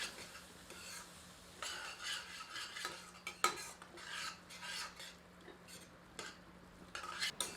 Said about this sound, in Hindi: तदोपरांत करछी चलाकर सारी सामग्री को अच्छी तरह मिला देते हैं।